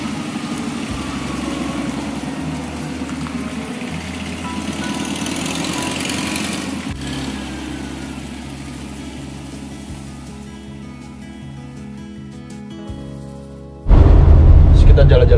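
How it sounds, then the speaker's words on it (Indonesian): A Volkswagen car's engine runs after a rebuild, idling with an uneven, rumbling rhythm while people talk nearby. Near the end it suddenly turns much louder and closer. "Jadi mesin sudah naik"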